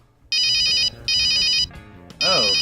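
Telephone ringtone in the Supreme League of Patriots game, three loud electronic bursts in a regular pattern with short gaps, and a brief voice sound near the end.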